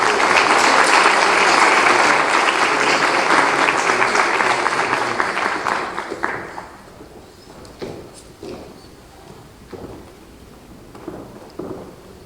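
Loud applause from an audience at a Mexican national nutritionists' day commemoration fills the first six seconds, then fades into scattered claps and faint room noise.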